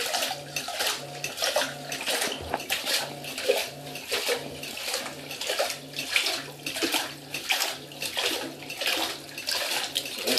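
A homemade duck butt pulser decoy sprays water up onto its tail while sitting in water, giving a steady splashing gush with a regular low pulsing motor beat underneath, fairly close and continuous throughout.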